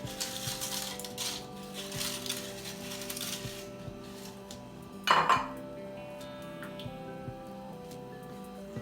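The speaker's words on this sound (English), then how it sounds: "I'm going to throw some chips in there" Homemade chips tossed into a hot oiled pan land with a sudden, brief clattering burst midway, standing out over a quiet kitchen background of low hum and light pan clinks.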